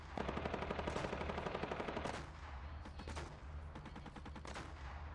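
Rapid automatic weapon fire in the Fortnite video game, a dense burst of evenly spaced shots for about two seconds, then sparser, quieter shots and rumble, with no talking.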